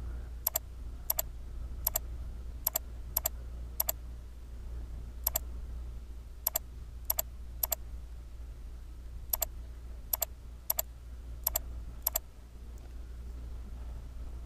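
Computer mouse clicking while items are selected: about fourteen sharp, isolated clicks at an irregular pace, close and crisp over a steady low hum, with no talking.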